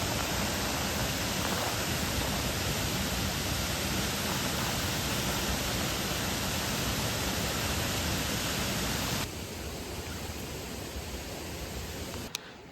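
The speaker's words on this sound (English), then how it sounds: "This is the waterfalls we're talking about." Waterfall seen on a nature hike, a dense steady roar of falling water filling the scene, loud and constant, dropping slightly in level near the end.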